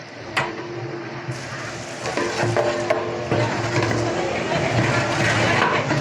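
Chopped onions, added after mint, cook in a large pot of oil for pulao rice at a big batch kitchen, giving a steady sizzle with stirring scrapes and clatter, continuous and moderately loud throughout.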